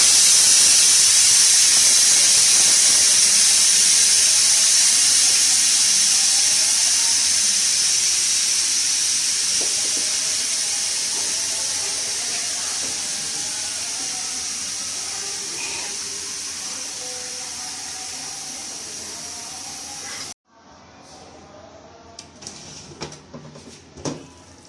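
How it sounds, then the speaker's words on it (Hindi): Loud, steady steam hisses from a pressure cooker being opened while chicken salan cooks, slowly tapering over about twenty seconds before cutting off abruptly, followed by faint kitchen clatter. "5 मिनट हो गया, मैं प्रेशर कुकर को खोलती हूँ।"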